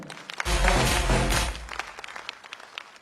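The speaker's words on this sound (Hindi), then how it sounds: "मैं चाहूंगा एक बार जोरदार तालियां हो जाएं।" An audience at an MLM business event breaks into a loud burst of applause that peaks quickly, then thins out into scattered claps.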